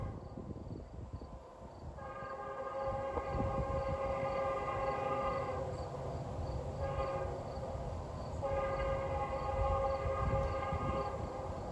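A Norfolk Southern freight train passes on the Pittsburgh Line in open country, its horn sounding in long sustained blasts with brief gaps over the steady rumble of the wheels, loud and close.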